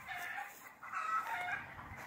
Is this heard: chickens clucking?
yes